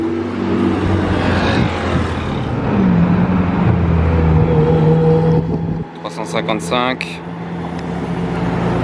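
A Ferrari F8 Spider sports car drives past on a Monaco street, its engine note rising and shifting as it passes amid loud traffic and city noise, with people talking throughout.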